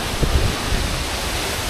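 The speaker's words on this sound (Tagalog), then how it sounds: "So finally we're now here sa sa baba ng waterfalls." Aw-asen Falls in Ilocos Sur pours in a loud, steady rush of broadband water noise heard from the foot of the falls, with a few low thumps near the start.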